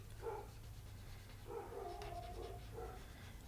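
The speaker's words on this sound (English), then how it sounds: "Excuse my dogs in the background." Dogs bark in the background at a distance, three faint short bursts of yapping spread across a quiet indoor room.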